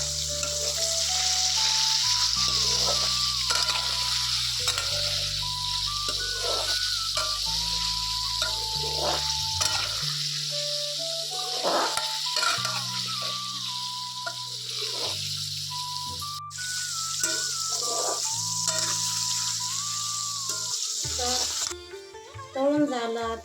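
Water poured into a pan of paneer curry with tomato, sizzling and bubbling steadily on the stove close up, a continuous hiss with occasional clatters under faint background music.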